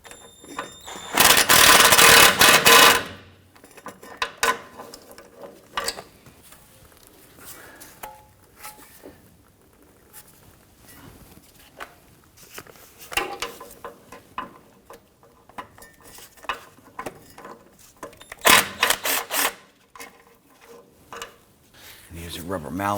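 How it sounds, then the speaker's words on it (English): Bursts of a power tool whirring loudly in short runs while removing a driveshaft bolt on a 2006-2010 Hummer H3 3.7L, separated by quieter stretches of clanking and handling noise. "we can now switch back over to our power tool and zip that out the rest of the way"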